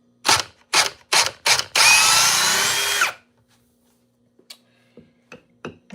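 A power drill drives a 6 inch timber lock screw in four short, loud bursts, then grinds steadily for about a second and a half before stopping; faint clicks and taps follow in the quiet.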